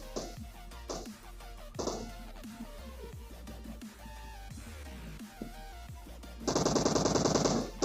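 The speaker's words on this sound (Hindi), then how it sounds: "मुझे गन साउंड आते वापस वाटर सिटी से" Gunfire in the PUBG Mobile battle royale game, with scattered single shots and short bursts, then a loud sustained automatic volley near the end, over faint game ambience.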